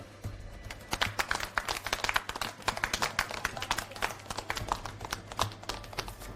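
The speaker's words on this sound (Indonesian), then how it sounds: "mari kita memberi tepuk tangan meriah sambut pengantin baru" Wedding guests clap to welcome newlyweds, a lively run of rapid, uneven claps at moderate distance that holds steady for several seconds.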